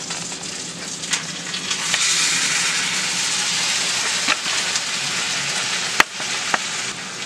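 A steak sears in a hot pan with a loud, steady hiss and sizzle, broken by a few sharp pops and clicks, close up.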